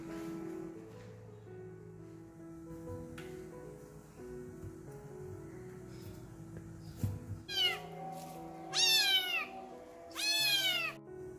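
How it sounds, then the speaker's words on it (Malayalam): Kittens meow as they are fed fish scraps, a few scattered high mews near the end, each short and rising, over a quiet background of soft rustling and faint low hum. "പിന്നെ മീൻ വേസ്റ്റ് പൂച്ചക്കുഞ്ഞുങ്ങൾക്ക് കൊണ്ടുകൊടുക്കാൻ വേണ്ടി ചെന്നു"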